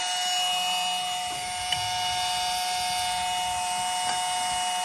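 A steady whirring drill grinds continuously close by as it bores into wood, with a couple of faint knocks; no voices.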